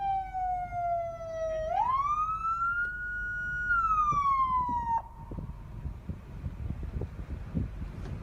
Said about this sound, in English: he takes his time to turn off the siren